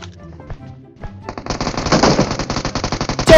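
Automatic gunfire in the BGMI battle-royale game finishing off an enemy, starting as sparse quiet sounds and then breaking into a loud, rapid, sustained burst of shots.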